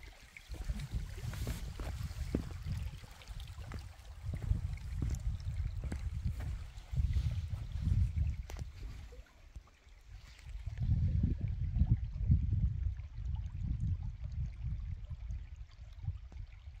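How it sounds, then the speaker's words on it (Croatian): Spring-fed stream water flows at Zalužnica in Lika, a steady close rushing and gurgling with scattered small splashes and no talk. "Kako šum vode smiruje čovjeka."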